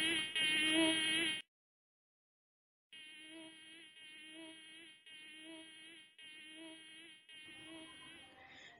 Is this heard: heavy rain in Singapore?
no